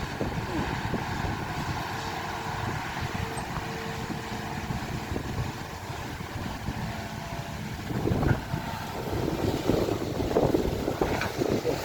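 Strong wind blows steadily around a vehicle outdoors, a continuous broadband rush with gusty surges toward the end and some rumbling underneath, with no speech.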